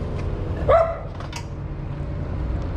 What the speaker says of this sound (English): Dog's barking because there's a cat around here.